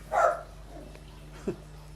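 A dog gives one short bark up close, followed a moment later by a brief, quieter yip or whimper in an otherwise quiet room.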